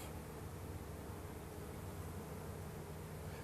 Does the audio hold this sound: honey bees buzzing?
yes